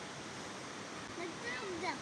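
Floodwater from a river swollen by heavy overnight rain rushes past a riverside neighborhood as a steady, even roar of water that persists throughout, with faint higher tones over it.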